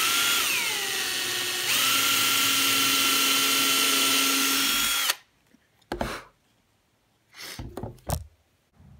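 A power drill whines loudly and steadily while boring dowel holes in a walnut box, spinning down after about five seconds, followed by a few sharp knocks and taps.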